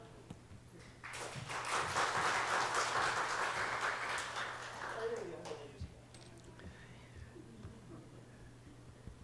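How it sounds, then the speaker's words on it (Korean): A church congregation at a Wednesday evening service applauds as the pastor comes forward, a burst of clapping that swells, holds for a few seconds and fades into quiet room tone with a faint hum. "우리 최문시 목사님 오실 때 큰 박수 부탁드리겠습니다"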